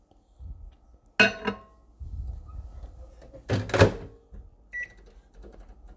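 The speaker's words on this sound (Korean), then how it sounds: "이 상태로 전자레인지 투입!" A microwave door thunks shut, a few clicks follow, then a low steady hum of the oven running, with a faint beep.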